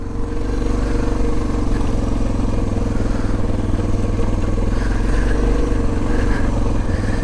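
Suzuki DR650 dual-sport motorcycle ridden through cold desert terrain, engine droning steadily and loud throughout with a low thrumming rumble and rattling clatter, no talk.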